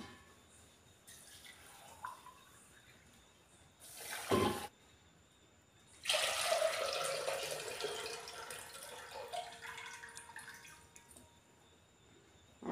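BPT rice being washed in water in a home kitchen, with soft sloshing and two louder bursts of splashing and pouring water, quiet and close with no talking.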